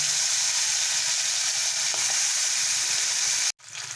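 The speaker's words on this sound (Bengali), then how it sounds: "পরের মাছগুলোও আমি এইভাবে ভেজে নেব" Kokila fish rubbed with salt and turmeric frying in hot oil, a steady, dense sizzle that stays loud and close throughout before cutting off abruptly near the end, with no voices.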